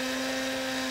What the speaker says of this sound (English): I like a fine grind in my coffee.